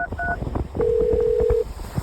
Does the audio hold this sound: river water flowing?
no